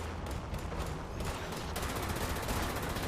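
Gunfire from the video game Fallout 76 crackles as a dense, continuous barrage of rapid shots, loud and close, filling the whole stretch with no voices over it.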